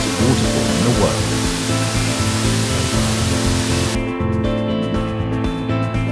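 A waterfall in New Zealand's Fiordland, on the Milford Track, dropping in three stages, heard as a steady hiss of falling water beneath a layer of background music that thins out partway through.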